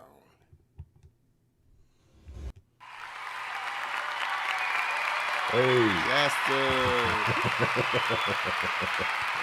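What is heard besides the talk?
applause sound effect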